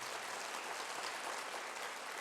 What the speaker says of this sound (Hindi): ये तालियां सर के लिए कम है